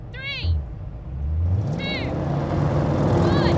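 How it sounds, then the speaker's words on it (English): A BMW M5 launches in a drag race against an Audi RS6 Performance. A low engine rumble swells and holds steady, with a few brief high chirps over it and no clear talk. "I've already drag raced the new BMW M5 against the current RS6 performance"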